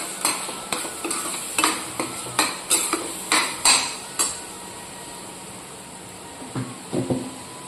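A spoon scrapes rhythmically around a pan as garam masala and red chilli are stirred into Kathiyawadi besan dhokli curry, making about a dozen close, regular strokes with a faint sizzle beneath and no talking.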